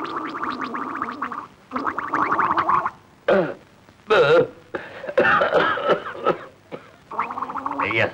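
A man coughs and clears his throat in rough, harsh bursts, with gurgling vocal sounds between them, in a scene from a 1973 Malayalam film.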